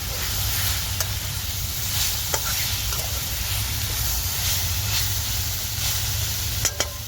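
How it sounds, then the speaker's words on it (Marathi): Takla wild greens cooking in a pan give a steady, even sizzle with faint scraping from stirring and a few sharp clicks toward the end, with no voices. "तर आता भाजीला मी मिक्स करून घेते"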